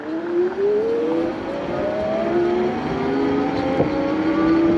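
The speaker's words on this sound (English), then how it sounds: "We're gonna do 2 acceleration tests on this bike, one into the wind and one back." Macfox X1 electric bike accelerating at full throttle into the wind, its motor whine climbing steadily in pitch over several seconds beneath constant wind roar.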